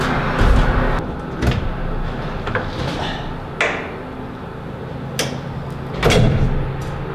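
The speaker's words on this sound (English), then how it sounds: "Now we have to open the door, but not extend the ladder." Folding attic stairs door being opened without extending the ladder, with a series of wooden knocks, thumps and creaks at irregular intervals, close and moderately loud.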